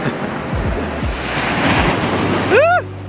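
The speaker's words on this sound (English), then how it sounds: "There's something about the sound of waves that always gets me." Ocean waves surge and wash onto a beach in a steady, loud roar with gusts of wind buffeting the microphone, swelling slightly before easing off, with a brief tonal sweep near the end.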